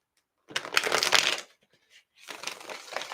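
Tarot cards being shuffled in two close, brisk riffling bursts separated by a short pause.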